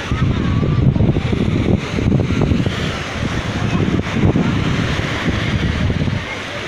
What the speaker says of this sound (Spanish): estamos aquí caminando en las playas de Cancún